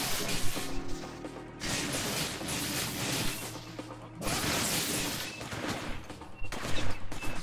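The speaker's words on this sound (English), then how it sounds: "where is that gunfire coming to?" Gunfire in the inFAMOUS 2 video game, with repeated shots and bursts crackling over a dense, busy game mix, fairly loud throughout with brief lulls between volleys.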